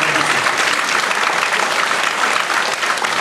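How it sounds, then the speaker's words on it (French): A concert audience applauds the crew late at night, a loud, dense burst of clapping from a close crowd that continues steadily without any talking. "on peut encore applaudir l'équipe d'Ovation"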